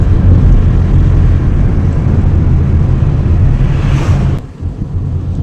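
Strong wind rushes past a car climbing a hill road from Coimbatore toward Ooty, a loud continuous roar buffeting the microphone, dropping briefly near the end.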